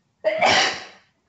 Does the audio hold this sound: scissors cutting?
no